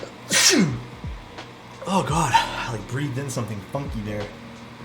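A loud, close sneeze bursts out at a streamer's desk during a custom keyboard build, followed by someone talking.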